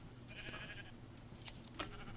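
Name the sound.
sheep bleating in Minecraft video game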